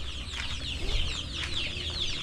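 Young farm chicks and chickens cluck and cheep continuously at close range, overlapping calls with no talking.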